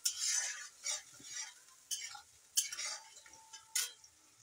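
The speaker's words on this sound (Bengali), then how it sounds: "এখন আমার পেঁয়াজটা ভাজা হয়ে যাক ভালো করে," Onion and garlic frying in a pan: short, close bursts of spatula stirring and scraping against the metal, spaced irregularly with quiet gaps between them.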